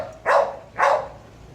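A stressed, fearful dog gives two loud close barks about half a second apart, each short and sharp, with quiet room tone after.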